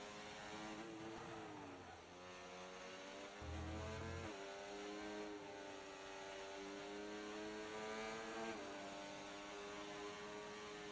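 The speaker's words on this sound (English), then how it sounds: "Are the engines hearable right now?" F1 race car engines scream in a racing video game on the Jeddah circuit, several high whining engines rising and dropping in pitch through gear changes, steady and fairly faint with no talk.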